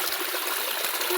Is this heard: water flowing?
yes